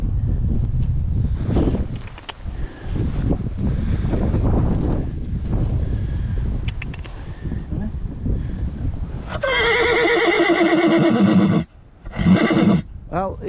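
Horse whinnying loudly near a wild camp spot in Wrexham, a long harmonic neigh after a stretch of wind and rustling outdoor noise with some talk, then a second shorter whinny.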